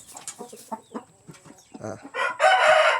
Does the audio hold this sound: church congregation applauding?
no